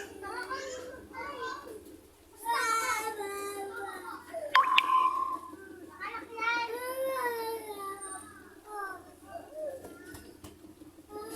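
Several children shout, squeal and chatter nearby, noisy and overlapping, with one sharp high shriek partway through.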